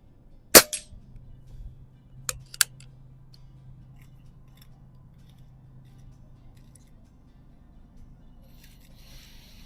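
A Diana Stormrider air rifle is fired at a range bench while plinking, loaded with its single-shot tray. One sharp, close crack is followed by a few quieter metallic clicks against a quiet background.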